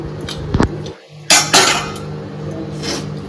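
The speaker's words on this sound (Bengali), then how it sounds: "এবার আমি প্রেশার কুকারটা খুলছি।" A lid is unlocked and lifted from a pressure cooker of Bengali mutton curry after four whistles, with sharp metallic clanks and scrapes followed by a couple of softer knocks, close by and without talk.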